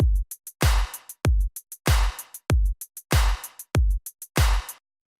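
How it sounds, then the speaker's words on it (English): Simple electronic drum loop for a track: punchy kicks alternating with noisy snare hits and short ticking hi-hats in a steady, dry, up-close pattern, repeating about eight times before stopping. "And the drums are pretty simple."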